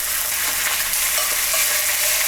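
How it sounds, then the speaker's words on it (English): Steak searing in hot oil in a pan, a loud, steady, close sizzle and crackle of frying with no talk. "I'm going to add some oil, and we're gonna sear the steak"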